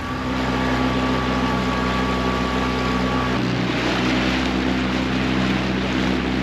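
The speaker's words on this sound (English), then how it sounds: "See, so now I'll cut off my outboard and we're here." An outboard motor on a Highfield CL290 dinghy drones steadily up close, then cuts off about halfway, leaving wind and water noise.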